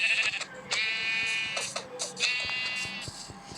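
A goat in the Minecraft video game bleats in repeated wavering calls, loud and close, a few overlapping bleats across a few seconds with no talk.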